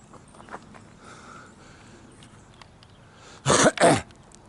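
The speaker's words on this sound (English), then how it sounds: "You can hear me coughing already." Two sharp, loud coughs in quick succession follow a stretch of quiet background noise.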